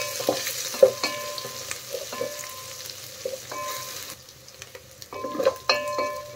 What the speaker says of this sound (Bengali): দিয়ে এখন ভালো করে কষিয়ে নেব মশলা